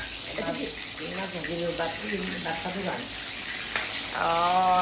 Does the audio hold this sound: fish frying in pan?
yes